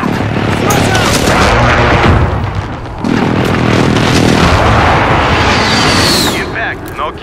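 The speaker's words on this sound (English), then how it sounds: "Target marked. Requesting strike." Called-in airstrike explosions thunder in Call of Duty: Modern Warfare, a chain of loud, heavy booms and rumbling blasts mixed with gunfire and battlefield noise, with voices heard amid the chaos.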